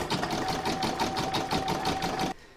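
Embroidery machine stitching the word Christmas onto a bauble, a fast rhythmic mechanical whirring with a steady high tone, close and even, stopping abruptly near the end.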